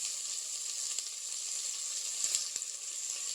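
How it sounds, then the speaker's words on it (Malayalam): Chopped onion and green chilli sauté in a pan for an egg curry, giving a steady, fairly quiet sizzling hiss with a couple of soft stirring knocks near the end. "ഈ സവോള ഒന്ന് വഴറ്റിയെടുത്താൽ മതി കേട്ടോ."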